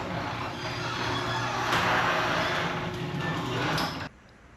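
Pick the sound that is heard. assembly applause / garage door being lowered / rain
garage door being lowered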